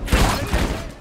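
A burst of rapid gunfire from the video game Black Ops 6, loud and close, runs densely through the whole short moment.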